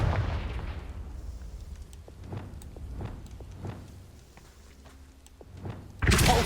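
Blasts from the Confringo fire spell in the Hogwarts Legacy video game: a run of sharp, thudding explosive impacts every half second or so, ending in a louder, fuller burst.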